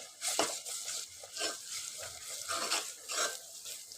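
Ginger paste and turmeric fry in oil for a bottle gourd and tomato curry, a soft close sizzle rising in short hissing bursts as the mixture is stirred, with no talk.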